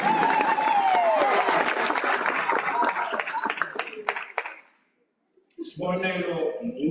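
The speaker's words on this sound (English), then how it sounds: "Another round of applause for the Mshombos." Loud crowd applause at a STADIO spring graduation ceremony, dense clapping with some cheering tones that fades out near the end, followed by a brief silence before a voice speaks over renewed sound.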